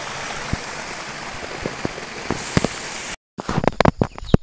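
Water flowing and splashing on a hillside path near cardamom fields, a steady rushing spatter with scattered drips, then a brief cut to closer, choppier splashes.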